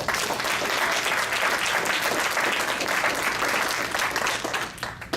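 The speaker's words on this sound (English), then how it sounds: "let's give you another round of applause" Sustained applause from a lecture audience at the University of Vermont, steady and dense throughout before tapering slightly at the end, with no talking over it.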